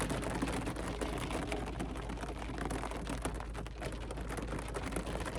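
Rain drums steadily on the roof of a parked Factory Five Type 65 during a storm, a dense, even patter heard from inside the car, fairly soft and continuous with no voices.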